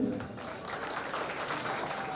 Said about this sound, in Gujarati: તેઓ શ્રીને તાળીઓથી આપણે અભિવાદન કરીએ